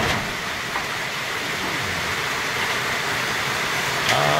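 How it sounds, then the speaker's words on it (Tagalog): Heavy rain drums steadily on a thin corrugated metal roof over a chicken coop under construction, a dense continuous hiss with no voices. "Lumakas na mga ulan eh."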